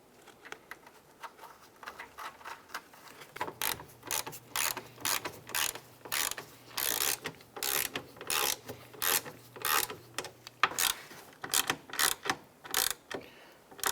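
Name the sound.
tightening 10mm nuts on a 2004-2009 Dodge Durango mirror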